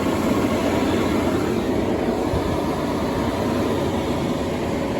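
Steady mechanical rumble and rattle of a farm seed drill running, constant and fairly loud throughout, with no voices.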